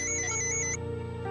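An electronic phone ringtone in a Hindi TV drama scene, playing a bright, loud melodic tone pattern that shifts partway through, with no talking over it.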